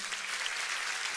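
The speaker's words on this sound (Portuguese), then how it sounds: "Você pode aplaudir o Senhor?" A church congregation applauds during a Holy Spirit conference service, a dense, steady wash of clapping hands filling the room at even loudness throughout, with no voices standing out.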